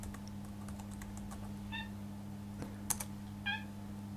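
A cat's short, faint squeaky meows, two brief calls indoors, over soft computer keyboard typing and a low steady hum.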